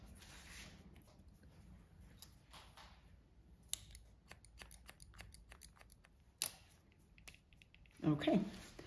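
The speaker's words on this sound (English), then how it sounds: "open and shut the shears" Hair-cutting shears open and shut during a pixie haircut, producing soft, quick snipping clicks in irregular bursts, close by and faint, with a few louder rustles.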